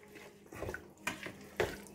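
Water poured into chicken pakora batter: a short, moderately soft splashing and trickling into a bowl, with a few brief bursts, no voices.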